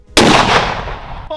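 A single deafening shot from a handgun billed as the world's most powerful pistol, fired outdoors: a sharp, close blast followed by a long, rumbling decay with no voices.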